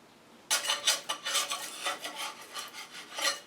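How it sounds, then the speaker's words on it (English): Rough scraping strokes of a hand scraper taking loose paint off a plow-damaged bench seat piece, a steady run of rasping passes after a brief quiet start, close and fairly loud with no talking. "I'm going to scrape a little bit of that paint off first before I assemble it though."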